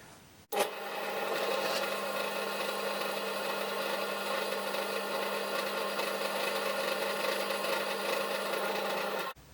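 A drill bit boring a hole through mild steel at a slow 260 RPM under moderate pressure, giving a steady, continuous grinding whine that starts abruptly and runs evenly at close range with no talking.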